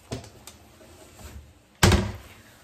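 A kitchen drawer shuts with a single solid thunk that stands out clearly after a few faint taps and rustles nearby, with no voices.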